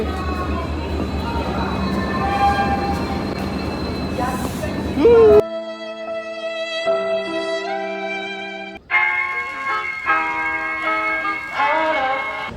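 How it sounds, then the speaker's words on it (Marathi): A train at Chandigarh railway station rumbles and screeches on a cold day, followed by sustained tonal horn or whistle blasts and more squealing rail noise, with some voices in the background. "Chandigarh railway station."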